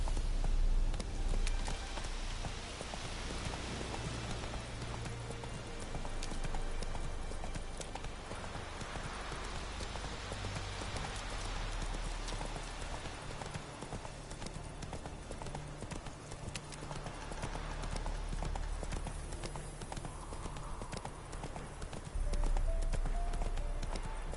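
Roach, a horse in The Witcher 3 video game, walks with steady, rhythmic clip-clopping hooves that continue for the whole stretch at moderate loudness over a soft outdoor ambience.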